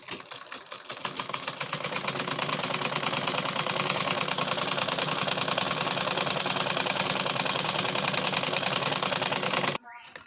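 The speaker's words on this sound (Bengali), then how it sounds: "এখন ওই সেলাইটা দিয়ে নেব" A sewing machine stitches a kameez in one loud, continuous rapid whirring run of several seconds, close up, stopping abruptly near the end.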